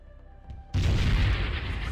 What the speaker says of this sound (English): Ah, you shot a missile.